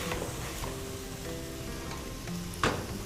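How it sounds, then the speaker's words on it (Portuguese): Sautéed base (refogado) sizzling and frying steadily in a pan, a continuous close crackle with faint stirring clinks and one brief sharper knock near the end. "E fica de olho no refogado para que ele não queime"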